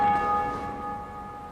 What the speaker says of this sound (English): Oh, that's ringing the bell.